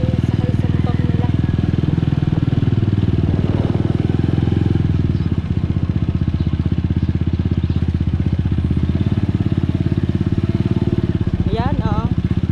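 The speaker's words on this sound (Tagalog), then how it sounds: "sakay sa motor nila" A motorcycle engine runs steadily up close, a continuous rumbling drone with some clatter, while people talk over it.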